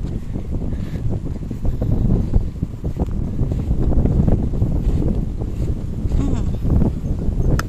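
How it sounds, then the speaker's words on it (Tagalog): Strong, steady wind roars and buffets the microphone throughout, a dense low rumble with gusty swells and no pauses. "Naririnig niyo yung hangin."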